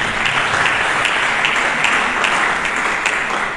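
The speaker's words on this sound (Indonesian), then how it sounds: "Mari kita berikan tepuk tangan." Steady, dense applause from a church congregation during an Indonesian sermon, many hands clapping together in an unbroken wash of sound with no break.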